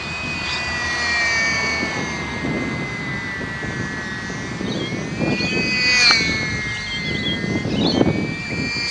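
A small electric SBACH 342 RC model plane running on a 200mAh battery whines overhead with a high steady motor tone that bends up and down through manoeuvres, over outdoor background noise.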